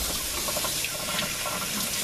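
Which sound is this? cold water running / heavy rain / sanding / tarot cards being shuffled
cold water running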